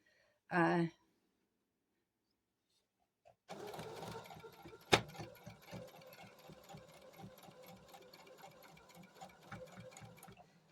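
A home sewing machine runs a short, small seam on scrappy fabric for a can coozie, a close rapid whirring chatter starting after a brief sound and a pause, with one sharp knock partway through, then steady to the end.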